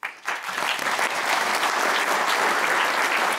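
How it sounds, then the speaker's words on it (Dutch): A lecture-hall audience at a university medical centre evening talk bursts into applause, starting abruptly after a brief pause and settling into a loud, even patter of many hands clapping for the rest of the moment. "Maar voor nu graag veel aandacht en vast een applaus voor Gean Navis."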